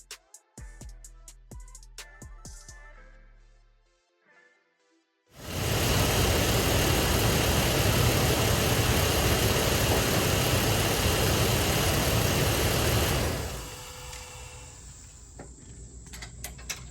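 A Dodge Dakota engine idles steadily and fairly loud for several seconds, preceded by scattered clicks and knocks, then the idle quiets toward the end.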